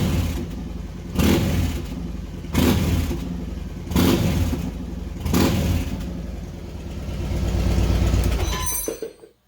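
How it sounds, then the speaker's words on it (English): Yamaha Raider motorcycle engine running and revved during an oil change, five loud swelling revs at steady intervals over a rumbling idle, close by, ending as the engine cuts off. "Start the bike first. Rev it 3 to 5 times."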